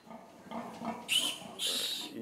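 Pigs on a farm in Guadeloupe, near Lamentin, give a few low grunts followed by two short, sharper squeals, fairly close and fairly quiet, without speech over them.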